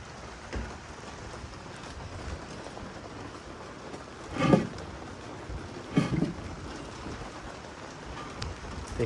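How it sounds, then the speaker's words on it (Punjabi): Sudden rain falling in a Pakistani village, a steady hiss of drops across the whole stretch, with a few louder bursts of nearby splatter or rustling; no voices. "ਅਚਾਨਕ ਹੀ ਬਾਰਿਸ਼ ਸ਼ੁਰੂ ਹੋ ਗਈ"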